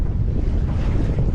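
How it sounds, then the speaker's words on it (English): Loud, constant wind buffeting the microphone out on the water while a large boat is being tested, a dense low roar that fills the whole moment with no voices. "but I'll try and edit the wind out"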